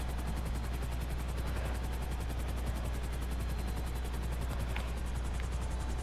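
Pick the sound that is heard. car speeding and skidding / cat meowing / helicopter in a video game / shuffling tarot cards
helicopter in a video game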